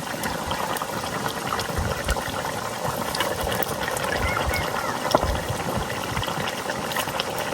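A pot of Bengali fish and white eggplant curry with tangra fish comes to a rolling boil, giving a steady close bubbling and gurgling that runs without a break and is heard alone.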